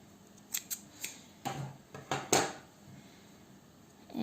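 Scissors snip off the yarn end of a crocheted heart scarf: a handful of quick, crisp cuts close by, irregularly spaced, with no voices around them.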